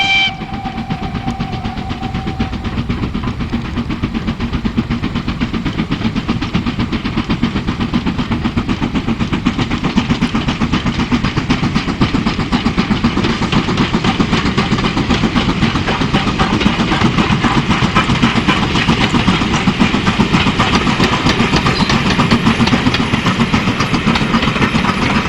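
Preserved LMS Crab steam locomotive 42765 working at Burrs on the East Lancs Railway, a steady loud chuffing roar with rail clatter that continues unbroken throughout, with no voices.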